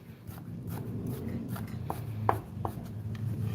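Knife slicing raw beef on a cutting board for Korean yukhoe, cut diagonally across the grain, with several soft, irregular cutting taps over a low background hum.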